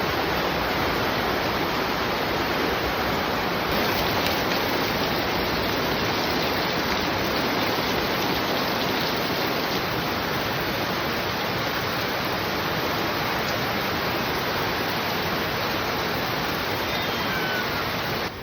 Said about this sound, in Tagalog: After nga ng mahabang katahimikan na yun ay simula ng bumuhos ang napakalakas na ulan